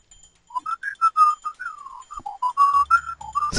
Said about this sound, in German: du hast gerade gepfiffen